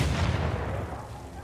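A heavy in-game explosion from The Last of Us Part II bursts loud and close, then rumbles and fades over about a second.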